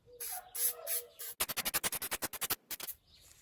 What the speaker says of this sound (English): it's a good idea to soak the bushing's outer surface and the control arm in some penetrating oil